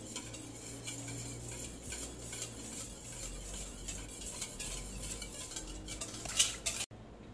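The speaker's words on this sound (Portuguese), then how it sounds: "Nós vamos mexer para ele hidratar." A spoon stirs two packets of yeast into a liquid mixture in a bowl for homemade bread dough, with steady close scraping and clinking of metal against the bowl throughout, ending in a slightly sharper clink.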